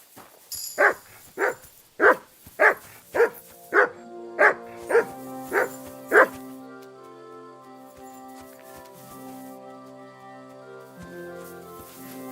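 A dog in the Kingdom Come: Deliverance 2 video game barks about ten times in a steady series at close range, then settles into soft whimpers over a low sustained background tone.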